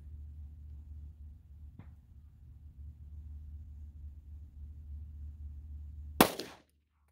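A single sharp gunshot from a 9mm pistol firing 124-grain +P defensive ammunition, loud and close, cracking suddenly after several seconds of low rumbling background and cutting off abruptly.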